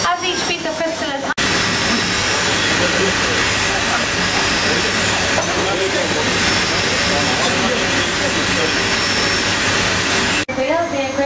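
Crystal being cut on an engraving wheel in a working crystal factory, a loud continuous grinding hiss that holds steady for about nine seconds, with machine noise before and after.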